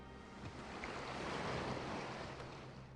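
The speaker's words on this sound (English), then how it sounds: "All I hear is waves." Ocean waves in the video game Populous: The Beginning wash in as a loud, steady roar of surf with a windy rush, continuous and close, with no voices over it.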